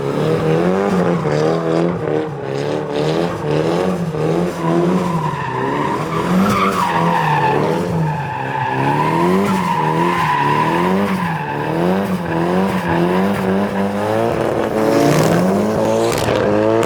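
Nissan Silvia S15 Spec-R with a Greddy lip drifting in a video game, its engine droning and rising and falling in pitch over continuous, loud tire squeal, with no voices.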